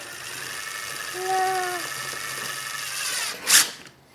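A whirring power drill driving screws hums steadily with a rising and falling motor pitch, ending in a brief louder burst; faint talk sits underneath.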